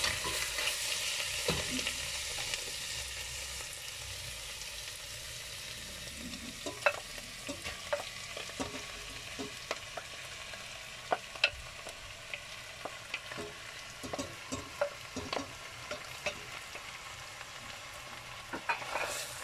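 Chicken stirred into softened vegetables in a pan for an Asian-style chicken and rice dish, giving a steady sizzle with scattered clinks and scrapes of stirring throughout.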